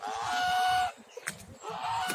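A hungry pet goose honks loudly and repeatedly in a nasal, drawn-out call, near and alone, with a brief pause before it calls again.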